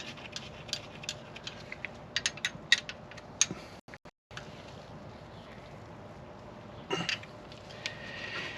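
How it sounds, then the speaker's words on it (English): A wrench tightens a jam nut on a Triumph TR3, making a run of close metallic clicks and ratchet-like ticks, a brief silent gap, then a few more clicks at moderate loudness. "you got to hold it in place while you tighten the jam nut"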